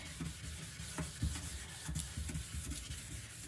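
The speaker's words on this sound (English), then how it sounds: "You see how easy it is to sand with just the paper. Actually, it's not that bad because it is 2000 grit." A plastic car headlight is sanded by hand with 2000 grit sandpaper and no block, giving quiet, close, rhythmic rubbing strokes in a quiet room.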